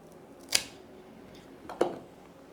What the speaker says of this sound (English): So I'm actually just going to make the cut here, and then we'll have a single tuber.